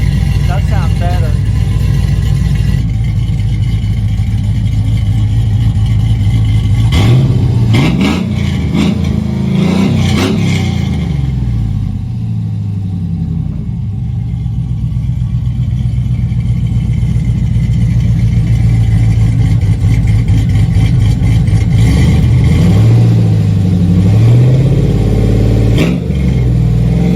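A GM LS V8 fitted with an Elgin stage 2 camshaft, breathing through a wide single 3-inch exhaust into a 2.5-inch muffler, revs loudly in repeated surges over a lumpy idle, with a voice talking over it.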